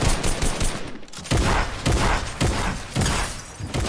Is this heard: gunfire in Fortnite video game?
yes